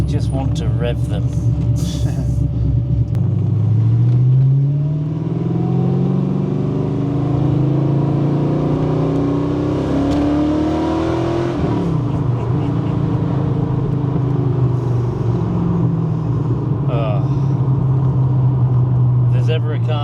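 A modified TVR Griffith 500 sports car engine revs repeatedly, its low rumble climbing and falling in pitch over a steady idle, loud and close, with people talking over it.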